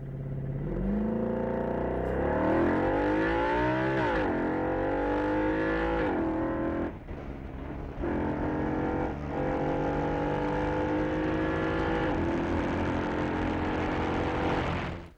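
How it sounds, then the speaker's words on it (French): An Audi RS5's V8 engine accelerating hard, loud and close, its revs climbing through repeated gear changes with brief dips between pulls and no talk over it. "On découvre alors une nouvelle facette du V8, il se montre à la fois plus mélodieux tout en nous bluffant par son punch"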